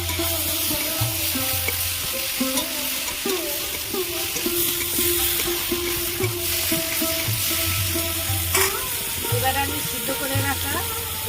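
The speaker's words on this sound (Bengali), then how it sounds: "সিমায় বেগুন আমার ভাজা ভাজা হয়ে গেছে" Eggplant sizzles steadily in a hot pan and is stirred with scraping utensil sounds, a constant frying hiss under a background musical hum, with a louder clatter near the end.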